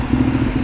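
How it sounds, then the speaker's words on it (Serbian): Motorcycle engine being started, heard as a brief, rough mechanical rumble with clattering texture, steady and fairly close. "upalimo motor"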